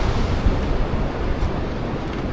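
River water rushing through Colca Canyon in Peru, a loud, dense, steady broadband roar that fills the whole stretch with no voices.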